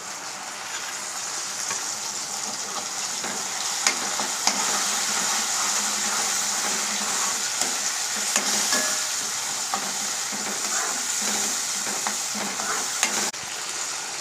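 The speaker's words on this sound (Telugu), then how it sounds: "ఫ్రై అవుతున్నటువంటి ఈ ఆనియన్స్లో, ఉల్లిపాయ ముక్కల్లో టొమాటో పేస్ట్ వేసుకుందాం" Onions frying in a pan with tomato paste just added, for an egg, drumstick and tomato curry; a steady close sizzle runs throughout, broken by light scraping stirs and a few sharp utensil clicks against the pan.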